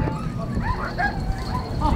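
Sled dogs at a kennel give a few scattered yips and whimpering barks at moderate distance over steady low rumble, with no talk.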